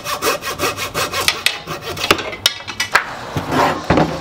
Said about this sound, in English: I'm just going to use this 3/8 dowel and my coping saw